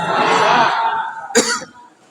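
A single harsh cough bursts out close by after a stretch of throaty vocal noise during a sermon, then fades to quiet.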